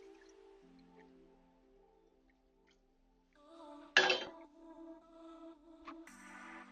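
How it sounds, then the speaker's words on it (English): Panna cotta mixture is poured into a jug, with soft drips and a brief gush of liquid over a low background hum, then a light clink and a trailing splash. "I'm just gonna pour it into my jug here."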